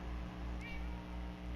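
A Minecraft cat gives a single short meow midway, faint and thin over a steady low hum of background game ambience.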